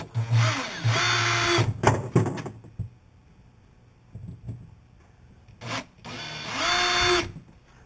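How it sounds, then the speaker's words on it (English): A power drill bores pilot holes for screws during a console install, loud whirring bursts that spin up and wind down in several separate runs with short pauses and clicks between them. "this time you can drill all 3 pilot holes"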